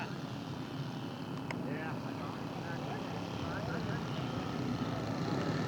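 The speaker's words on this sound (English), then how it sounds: "Russ is on his way again with the old Dennis Welty, Newport 28" A scale model Newport 28 airplane flies at a fun scale event, its engine a steady buzzing drone heard at a distance under an announcer's voice.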